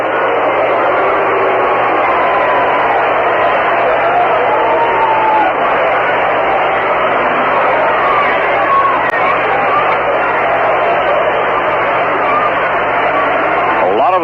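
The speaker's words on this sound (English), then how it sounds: "The crowd not agreeing with umpire Andy Olson." A ballpark crowd at a 1969 Mets versus St. Louis Cardinals game murmurs and grumbles at an umpire's call, a steady restless hubbub heard through a thin, hissy old radio broadcast, likely with an announcer's voice mixed in.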